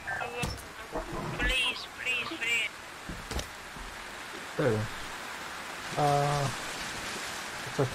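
Steady rain patter fills the background while a person talks intermittently over it, with some brief clicks and tones.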